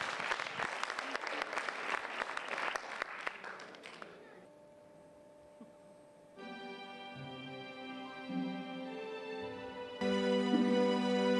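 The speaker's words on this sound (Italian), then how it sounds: "Un applauso per Matteo." Clapping from a festival audience welcoming a young singer fills the first four seconds, then thins out and fades, giving way to soft sustained musical tones as a song begins.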